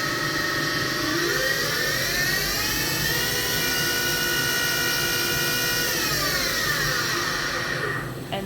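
Spindle of a Hurco VM5i vertical machining center running up from about 2,000 to 6,000 RPM: a loud, steady high-pitched whine that rises in pitch, holds at speed, then falls away near the end, with no speech.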